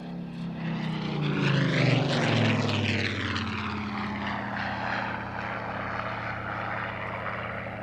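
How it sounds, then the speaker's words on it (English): A Spitfire, a propeller fighter delivered to the Royal Air Force in January 1945, passes at Kemble Airshow. The engine roar swells as it approaches and then falls away in pitch with a strong Doppler sweep, close and loud. "This particular Spitfire is Papa Sierra 853, delivered to the Royal Air Force January 1945"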